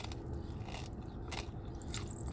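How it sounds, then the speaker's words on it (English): Someone bites into crunchy cassava chips up close, with several crisp, crackling crunches at irregular intervals over a quiet background. "I'm eating cassava chips. They so crunchy."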